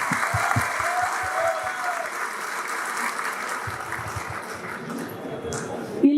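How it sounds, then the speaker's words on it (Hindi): Applause from a crowd of students at a coaching meetup in Shamli, continuous, dense clapping for about six seconds, fairly close and loud, with faint voices mixed in. "एक बार इनके लिए ताली बजाएं।"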